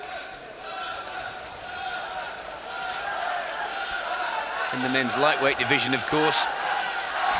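A boxing arena crowd at a men's lightweight bout between Taras Shelestyuk of Ukraine and Serik Sapiyev of Kazakhstan gives a steady roar of support, with a commentator talking over it throughout.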